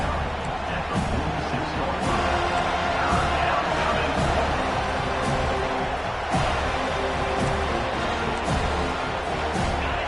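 A big stadium crowd roars steadily at a college football game between FSU and Auburn after the defense stops a play on second down, a loud sustained wall of cheering with no break.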